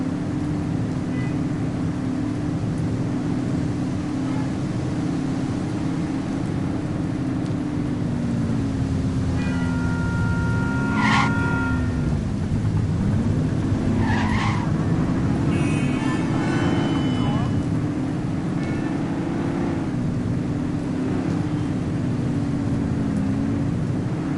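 Car engines drone steadily at close range in a police video game, with a wavering low hum as a vehicle speeds along and a few brief electronic tones over the continuous noise.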